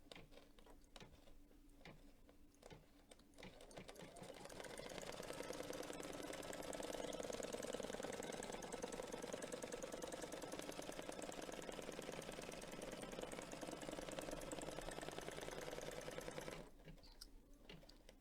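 Embroidery sewing machine stitching crosshairs onto stabilizer alone, a steady mechanical whirring hum that builds up and holds for about twelve seconds before stopping.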